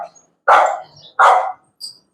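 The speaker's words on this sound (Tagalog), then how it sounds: "At may mga aso na." Several dogs bark at a relocation housing block: two loud, close barks about a second apart, then a shorter, fainter yip, with no talk over them.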